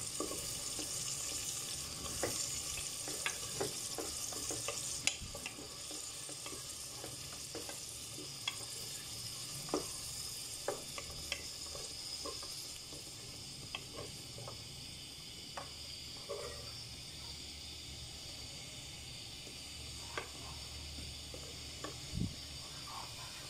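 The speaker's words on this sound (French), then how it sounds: "Je mélange bien avec ma spatule." A spatula stirring Cameroonian fried rice with tomatoes, onions and peppers in a pan, quiet continuous frying hiss broken by regular soft scrapes and taps of the spatula against the pan.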